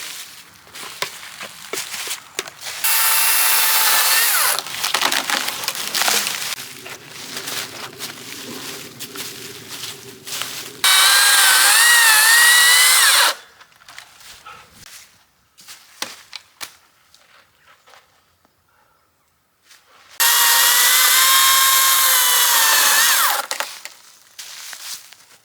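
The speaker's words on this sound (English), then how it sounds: "The advantage is you can really hear it with the electric saw." An electric saw cutting through a fallen oak tree in a gateway, loud whining bursts of several seconds each, starting and stopping between quieter stretches of wood creaks and handling noise, with no talk.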